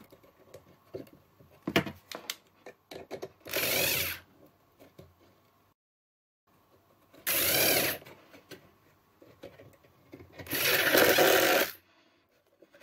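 A power screwdriver drives screws through a small wooden batten into a wooden beehive super: three loud whirring bursts of a few seconds each, separated by clicks, handling knocks and a brief silence.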